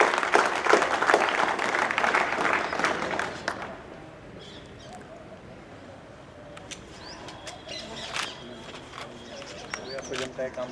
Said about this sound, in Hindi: तालियों पर कंजूसी नहीं होनी चाहिए।